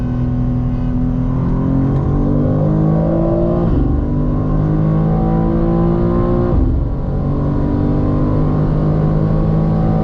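A 2024 BMW M2 and a 2024 BMW M4 Competition RWD accelerate hard, engines roaring loud and close, pitch climbing steadily with two sharp dips as they shift through gears after downshifting to third.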